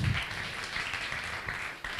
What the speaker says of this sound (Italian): Accogliamola con un bellissimo applauso.